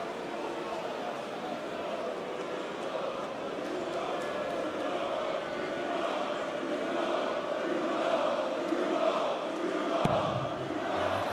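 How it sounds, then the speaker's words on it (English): A large arena crowd at the World Darts Championship roars and chants steadily for a long stretch, a dense wall of voices swelling slightly toward the end. "The crowd willing him to get another leg here."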